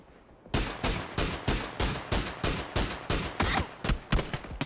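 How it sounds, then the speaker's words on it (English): Rapid bursts of SLR rifle fire in the battle royale game PUBG during a pro scrim, about a dozen sharp evenly spaced shots ringing out loud and close over a few seconds. "Great shooting there with the SLR."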